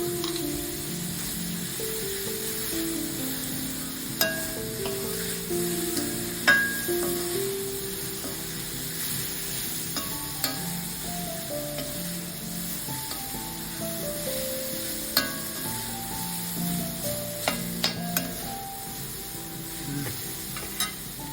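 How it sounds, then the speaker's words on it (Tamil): A jackfruit stir-fry sautés with fennel powder in a pan, a low continuous sizzle marked by occasional clinks and scrapes of a utensil, under a faint background melody. "சோம்பு பொடி அதை தூவி விட்டு 1 நிமிஷம் வதக்கி விட்டா போதும்"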